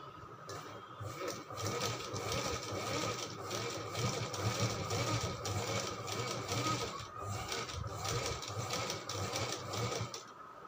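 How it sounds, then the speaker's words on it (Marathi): A sewing machine double-stitches lace onto a blouse, running in a loud, steady, continuous whir that lasts the whole stretch with only slight changes in pace. "आता याला आपल्याला डबल शिलाई मारायची आहे"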